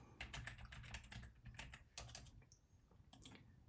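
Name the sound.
computer keyboard typing while renaming a file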